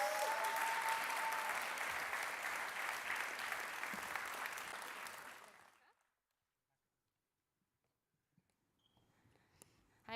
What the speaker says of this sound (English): big round of applause for Kaya and Rebecca from Carnegie.